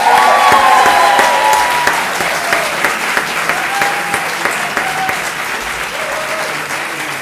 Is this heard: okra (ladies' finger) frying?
no